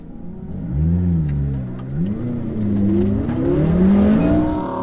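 An Audi RS3 and a pack of supercars accelerate hard at a race start, multiple engines roaring and rising in pitch together, loud and close, with overlapping revs sweeping upward through gear changes.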